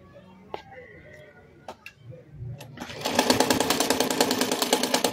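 A Janome 802 sewing machine runs a straight stitch: after a few faint clicks and handling sounds, the motor starts and drives a fast, steady, close-up needle rhythm for the last couple of seconds.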